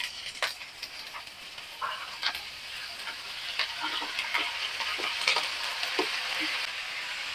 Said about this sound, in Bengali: আমি সরিষার তেল দিয়ে গাজরটা ভাজি করছি।